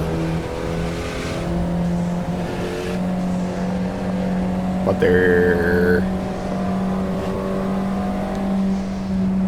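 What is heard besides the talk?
car engine revving and passing traffic in video game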